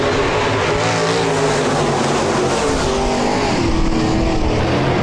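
A pack of seven IMCA Modified race cars roars off at the start of a heat race at Park Jefferson Speedway, a loud, continuous blend of engines with layered droning tones, close and unbroken.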